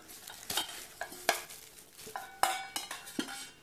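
Metal pots from a budget Mil-Tec camp cookset are handled, giving a series of sharp clinks and clanks at irregular intervals, close and fairly quiet.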